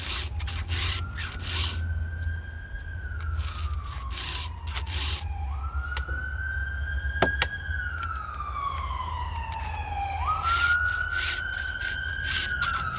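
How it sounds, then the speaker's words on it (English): A wailing emergency siren rises and falls in long sweeping cycles, steady and fairly close, over constant rasping and rubbing noise from chainsaw milling and sharpening of black oak. "There's all kinds of sirens coming."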